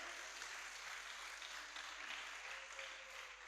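Faint, steady applause at a kindergarten graduation, many hands clapping for students and teachers in an even, continuous patter heard from a distance.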